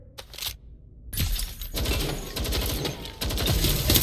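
Gunfire in Watch Dogs Legion: dense bursts of rapid automatic shots and crackling impacts with shattering debris, loud and close, nearly continuous after a brief lull.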